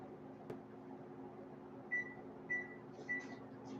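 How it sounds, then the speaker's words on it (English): A microwave oven hums steadily as a plate heats inside, a low running drone with a sharp click near the start and three short beeps closing out the cycle. "stick it in the microwave for 30 seconds"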